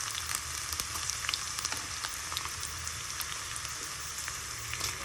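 Mustard seeds and cumin sizzle in hot oil that already holds onions, a steady crackling hiss with small pops scattered through it, close and alone with no voices.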